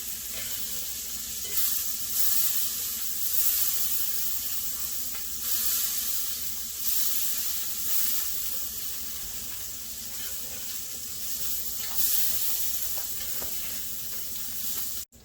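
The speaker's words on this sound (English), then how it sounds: "So I've turned my skillet down to low because it's important when you're making eggs that you always go at a low temperature." Eggs cooking in a skillet on low heat, a continuous soft sizzle with gentle periodic swells, heard alone and fairly close.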